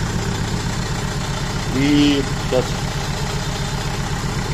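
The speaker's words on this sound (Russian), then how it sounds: "Собрали двигатель, троит." A Renault Kangoo 1.5 dCi diesel engine runs rough and misfires at idle, with a steady low throbbing pulse close by and someone speaking briefly over it.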